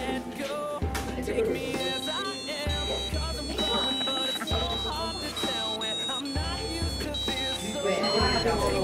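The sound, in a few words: piezo sounder playing happy birthday tune on robot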